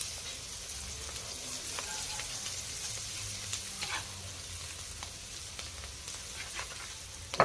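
Chopped onions fry in hot oil in a wok, giving a steady close sizzle broken by occasional stirring scrapes, with no talking.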